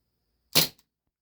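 A single sharp crack of a Steyr L9-A2 CO2 airsoft blowback pistol firing, a brief close report with a faint mechanical click of the slide just after, surrounded by silence.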